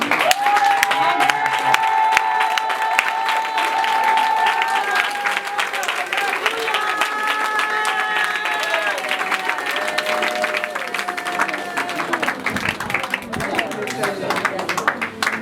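A wedding congregation claps steadily and cheers, with dense continuous applause and raised voices and shouts running throughout.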